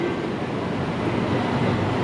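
A train rumbles steadily at the Phaya Thai railway stop in Bangkok in the evening, a continuous broadband roar of rolling wheels and engine that holds level throughout without voices.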